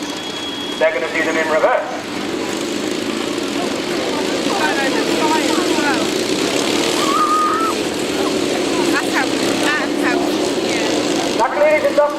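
Several motorbikes in a display ride cross over one another, their engines droning and buzzing steadily at a distance beneath a loud announcer's commentary over a public address system.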